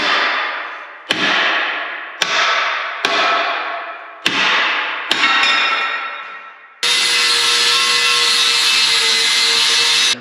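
A cutting tool works through welded motor mounts on a truck frame, striking in sharp repeated bursts that each decay, then settles into a continuous loud grinding whine for the last few seconds.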